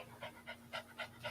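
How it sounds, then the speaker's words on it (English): A female dog panting close by, with quick, rhythmic breaths repeating about four times a second in a quiet room. "I hear her breathing."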